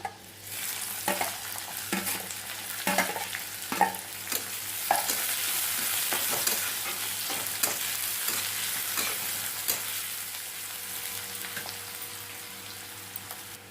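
Green chillies and onion frying in oil for upma, with a steady close sizzle throughout and repeated scraping, clinking strokes of a spoon stirring the pan.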